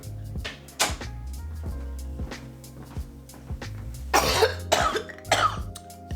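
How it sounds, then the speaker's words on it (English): Several sharp coughs from a person with a lingering cough, sounding close and fairly loud over a bed of soft background music, with two or three stronger bursts toward the end. "that cough of mine, I wish it would go away already"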